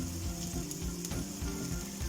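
Fennel and cumin powders stirred and fried in a pan for a pulao: a quiet, even sizzle with soft rhythmic scraping of the spoon, steady and without speech.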